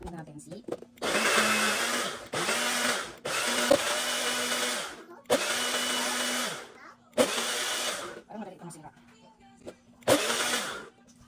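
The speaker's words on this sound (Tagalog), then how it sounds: "ang gagawin ko dito ay i-blend ko siya hanggang sa mas smooth." A kitchen blender whirs through a leftover bread dessert mixture in five loud, close bursts of a couple of seconds each, separated by short pauses and clicks.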